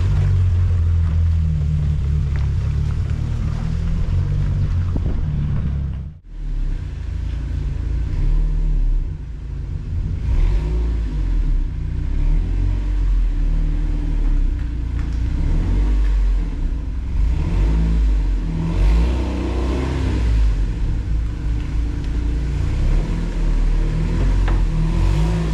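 A Vauxhall Nova engine revs and roars loudly and steadily at close range, with a brief drop in sound early on, then sustained throttle rising and falling.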